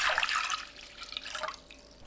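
Water is poured into a cooking pot to make a pickled celery brine, a short splashing gush that is loudest at the start and then trails into softer trickling.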